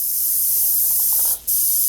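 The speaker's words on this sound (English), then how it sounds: "he used a can of compressed air on a goddamn fidget spinner" Compressed air sprayed from a can onto a fidget spinner, a steady loud hiss running nearly two seconds with a brief break near the end, then resuming.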